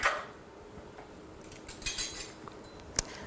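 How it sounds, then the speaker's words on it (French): Spoons and bowls handled and set down for an outdoor craft activity: a few light metallic clinks and clatters, spaced apart and close by, with no talk. "Des cuillères."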